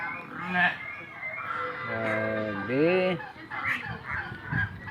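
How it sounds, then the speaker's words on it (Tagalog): Loud nasal honks from a goose close by, repeated in short bursts, with people talking over and between the calls. "Tingnan nyo, magaganda. Yung gansa."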